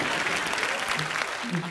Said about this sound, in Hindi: और रिंकू भाभी और संतोष के लिए गंदी गंदी तालियां, बड़ी बड़ी तालियां।